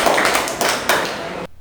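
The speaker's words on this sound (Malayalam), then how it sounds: "ഒരു നല്ല കൈയടി കൊടുത്തേ കൽഹാര." A school audience gives a short round of hand clapping, a dense burst of claps that swells and then stops abruptly near the end.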